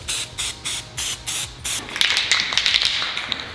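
Primer sprayed from an aerosol can onto car parts: a row of short, evenly spaced hissing bursts, then one longer continuous spray, close and clear with no talk.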